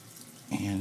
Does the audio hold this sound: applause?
no